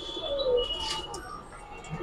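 Pigeons at a bird seller's coop give soft low coos, with a faint chirp and light rustling around them, heard fairly quietly in the background.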